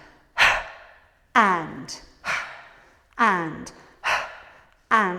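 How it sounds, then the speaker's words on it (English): Sharp percussive breaths during a Pilates foundation workout: six forceful huffs about a second apart, each a loud close burst fading into a breathy tail. "Just bring the breath in, and our percussive breaths"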